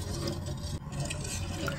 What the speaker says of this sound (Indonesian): Lalu hidupkan api kompor dan diaduk hingga adonan cendol Nutrijelnya mendidih.